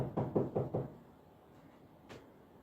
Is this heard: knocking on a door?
yes